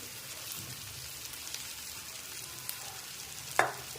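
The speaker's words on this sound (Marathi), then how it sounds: "ते पण आपल्याला चांगलं परतून घ्यायचं आहे" Softened tomato with pav bhaji masala sautéing in a pan for masala pav. A low, even frying sizzle sounds quietly throughout, broken by one short sharp scrape of stirring near the end.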